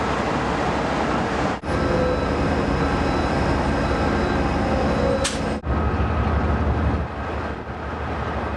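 Steady rumble and rattle of the Sunset Limited train rolling along rails, heard from on board, continuous and close, with a couple of brief dips in the noise.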